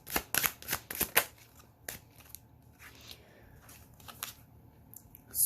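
Tarot cards are shuffled by hand in a quick burst of crisp riffling snaps, followed by softer, sparser card rustles and slides, close and fairly quiet with no speech.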